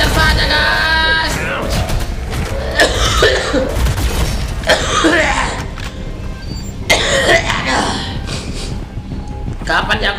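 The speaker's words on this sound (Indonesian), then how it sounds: "Ini batuk juga guys ya" A person coughs several times in bursts, layered over continuous sci-fi shooter game sounds from a space station battle, with talk mixed in.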